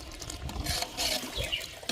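Water splashes and pours into a large pot of biryani being cooked outdoors, a short close burst of gushing, sloshing liquid with no talk.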